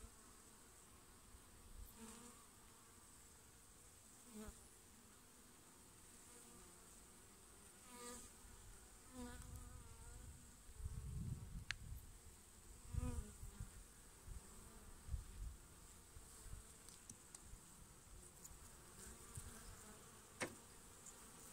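Honeybees buzz in an open beehive while oxalic acid glycerin strips are taken out: a continuous, fairly faint drone with scattered handling bumps and rustles, and no talking.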